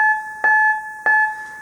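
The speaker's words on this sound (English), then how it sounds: "here's what it sounds like if it is tuned to one extreme." Two identical notes from a Casio MT-68 keyboard with its tuning dial set to one extreme, each a bright, hollow electronic tone struck about half a second apart and left to ring steadily, clean and close with no talking.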